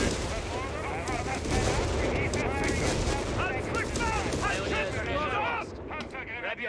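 Dense battlefield gunfire and explosions from the strategy video game Company of Heroes 3, continuous rattling shots and booms throughout, with voices shouting over the combat.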